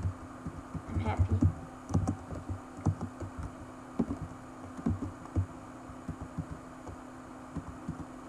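Irregular clicking keystrokes on a worn-out computer keyboard during a Cake Defence game, close and fairly quiet, spaced in uneven bursts over a low steady hum.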